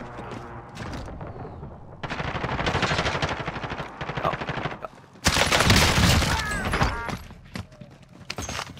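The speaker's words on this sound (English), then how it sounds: "We're getting shot at, too." Gunfire in a video game erupts in loud, dense bursts of rapid automatic shots that swell and fall across the scene, with a sharper, heavier volley near the end.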